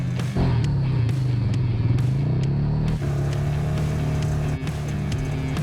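A side-by-side off-road vehicle stuck in water in Arnhem Land, its engine droning loudly and steadily with shifts in pitch as the tyres spin during winching.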